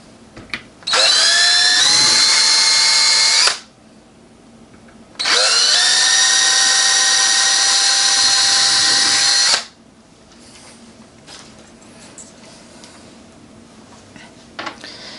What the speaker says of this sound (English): we're just going to drill two holes.